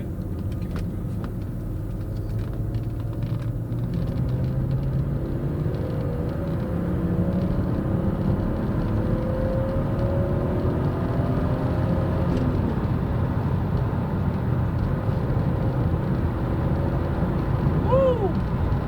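A BMW M3 Evolution or Nissan 300ZX Twin Turbo engine revs up through the gears, heard from inside as a loud sustained rumble with rising and falling engine pitch sweeps, constant throughout.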